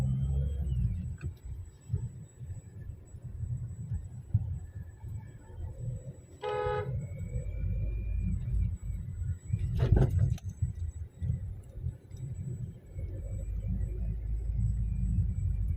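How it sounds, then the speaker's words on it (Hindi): A Hyundai Creta drives along a road, with a steady low rumble of road and engine noise throughout and a brief horn-like toot partway through. "अब चला के देखते हैं 1-आध किलोमीटर।"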